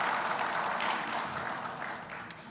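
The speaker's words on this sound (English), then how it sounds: "Get a round of applause for our advisory council." An audience at a conference livestream gives a round of applause for an advisory council: steady, dense clapping that holds at a loud level and then eases slightly.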